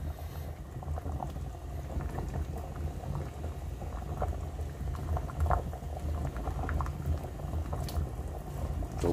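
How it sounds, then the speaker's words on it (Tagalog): A pot of pig head boiling for sinigang bubbles steadily in a kitchen, a constant rolling churn of liquid with scattered small pops, close and alone without talk. "So, papakuluan muna natin ng papakuluan."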